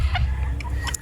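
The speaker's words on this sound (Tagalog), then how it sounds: "Ito mga kaputak ko," Chickens cluck in a few short, close bursts over a low background rumble.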